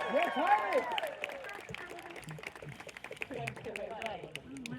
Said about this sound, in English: Give Titus a great big round of applause.